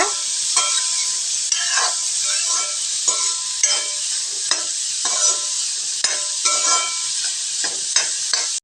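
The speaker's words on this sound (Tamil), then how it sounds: "கேரட்டில் இருக்கிற ஈரம் சுண்டுற வரைக்கும் ஒரு 2 நிமிஷம் நல்லா நெய்யில் வதங்கட்டுங்க" Grated carrots sauté in hot ghee in a pan for carrot jaggery halwa. A steady sizzle runs throughout, broken by repeated scraping strokes of a spoon stirring at an uneven rhythm, close up, with no talking.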